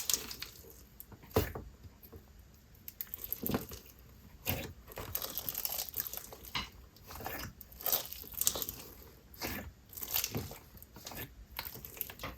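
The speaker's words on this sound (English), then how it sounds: "This slime inflates very little, but it still has amazing bubble pops and is super crunchy when mixed." Crunchy clear slime is squeezed and mixed by hand, giving close, irregular crackling crunches and sharp bubble pops in quick succession, with no talking.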